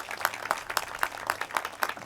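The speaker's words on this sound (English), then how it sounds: "Give her a big round of applause." Audience clapping at a park groundbreaking ceremony in a steady, even rhythm of about four claps per second, fairly close and clear throughout the short burst.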